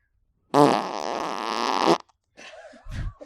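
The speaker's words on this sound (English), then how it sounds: "I might have a fart here too." A long, loud, buzzing fart lasting about a second and a half, followed by a short pause and two brief fainter sputters, close and clear in a podcast setting.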